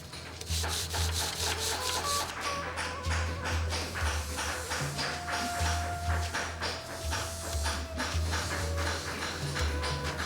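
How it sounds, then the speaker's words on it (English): A mahogany marquetry table being sanded by hand, steady rhythmic rubbing strokes back and forth with a gritty scratch, close and continuous, with faint knocks between passes. "The table is then sanded before being dyed."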